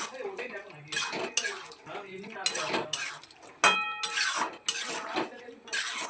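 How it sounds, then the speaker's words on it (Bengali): A spoon scrapes and clinks against a pan while capsicum paneer is stirred after a sprinkle of kasuri methi, with irregular metallic knocks and soft sizzling close by and no talk. "এবারে আমরা উপর থেকে কাসুরি মেথি ছড়িয়ে দিচ্ছি। এটা একটু নেড়ে ছেড়ে নেব।"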